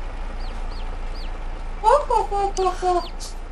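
Chickens cluck in a farmyard in the farming game Farming Simulator 22, a short burst of several clucks near the middle over a steady game ambience, with faint chirps earlier and talk around them.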